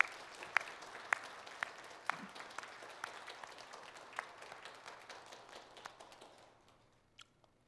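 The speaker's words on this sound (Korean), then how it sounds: "서로를 향해 박수로 함께 축복하겠습니다" A church congregation claps together in a soft, scattered round of applause with a few sharp individual claps, fading out after several seconds, fairly distant and quiet.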